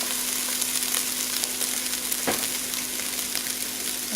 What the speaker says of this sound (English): And get that stirred up.